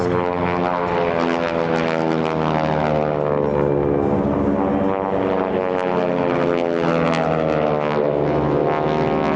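Propeller aerobatic airplanes of the Titan Aerobatic Team fly a barrel roll at the Air Power Over Hampton Roads air show. A loud, close, continuous engine drone with a buzzing tone holds steady, its pitch shifting slightly throughout.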